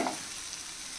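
Ginger garlic paste sizzles with onions in a pan for an egg fry, a brief, steady, close frying hiss that fills the whole moment.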